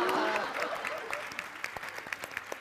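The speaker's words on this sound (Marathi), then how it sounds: "याबद्दल जोरदार टाळ्या वाजवल्या पाहिजेत." An audience at a Marathi comedy show bursts into applause, loud at first and then thinning into scattered claps that fade over a couple of seconds.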